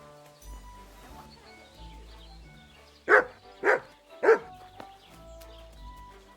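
Mutt the dog barking in the video game Kingdom Come: Deliverance II, three loud close barks in a row over soft background music.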